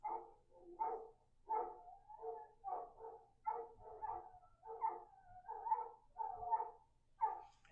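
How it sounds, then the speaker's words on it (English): Several neighborhood dogs bark and whimper in a steady run of short cries about once a second, moderately close and fairly faint, with no talking. "All the dogs in the neighborhood are crying."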